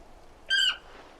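A chocobo bird in the Final Fantasy 16 video game gives a single short, shrill squawk, loud and close, against a quiet background.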